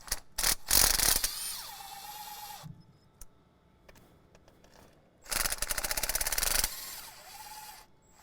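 Ratchet loosening an intercooler boot clamp on an LLY Duramax engine: two bursts of quick, crisp mechanical clicking, close and fairly loud, separated by a quiet stretch with faint handling noises.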